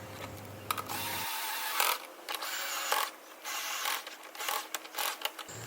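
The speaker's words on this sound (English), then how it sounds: "Tighten all the 3 bolts." Bolts on the rear body cover of an Activa scooter being tightened, with close ratcheting clicks and small mechanical creaks in short irregular bursts at low level.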